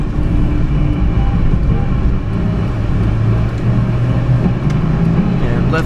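A 1994 Subaru Sambar Dias Classic is driven through Amagasaki, and the cabin is filled with a loud, steady drone of engine and road noise.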